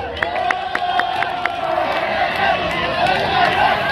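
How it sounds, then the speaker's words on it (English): A crowd at a youth club's annual night programme cheers and whoops loudly, with a few sharp claps at the start, the roar sustained and close throughout. "Let us give him a big round of applause."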